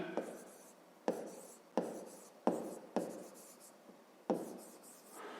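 Pen strokes scratch across paper as a fifth-grade math calculation is written out, coming in short, close bursts with several sharp starts and quiet trailing scrapes.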